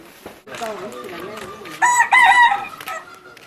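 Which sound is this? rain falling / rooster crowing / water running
rooster crowing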